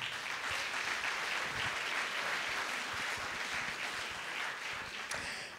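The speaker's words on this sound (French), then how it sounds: "On peut l'applaudir s'il vous plaît." An evening conference audience at a talk on generative AI applauds a president being introduced, a sustained burst of many hands clapping evenly for several seconds, fairly soft and distant.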